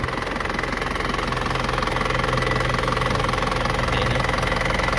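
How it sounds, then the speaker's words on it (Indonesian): A 2006 Isuzu Panther Grand Touring diesel engine idles close by, giving a loud, steady, rhythmic knocking clatter with no talk over it. "Sekarang kita cek mesinnya, kita nyalakan dulu."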